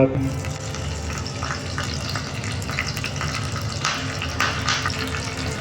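Spices temper in hot oil for a Marathi cucumber koshimbir, a dense loud sizzle and crackle running throughout with a few sharper pops near the end.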